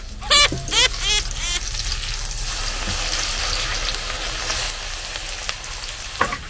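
Torta, an omelette, sizzles and fries in a pan with a loud, continuous crackle, opening with a few sharp scraping stirs up close.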